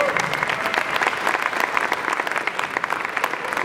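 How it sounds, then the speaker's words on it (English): Steady, dense clapping from a dinner crowd at a variety show fundraiser honors the restaurant association and table sponsors, a close, continuous burst of applause with no voices standing out. "Let's give them a round of applause."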